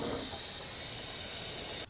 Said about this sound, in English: These cans don't spray when you tip them, but if you have a straw and you hold it upright and just bend the straw instead, it seems to work pretty well.